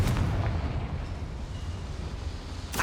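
Confringo fire-blast spell from Hogwarts Legacy: a loud, dense rumbling blast that roars for nearly three seconds and slowly dies away, with a sharp burst marking the end.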